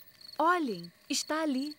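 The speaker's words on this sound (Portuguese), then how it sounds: "São os grilos criquilando," Cartoon crickets chirp at night as a thin, steady high trill running in the background, while a voice speaks over it in two short bursts.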